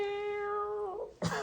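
A person's voice imitates a cat's meow in one drawn-out, wavering cry that slides down at the end, followed by a short breathy burst, close and clear.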